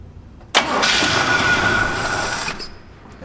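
A 1972 Oldsmobile Cutlass, unrestored, fires up with a sudden burst and then a loud, steady engine roar for about two seconds, close by, before cutting back to a quieter idle.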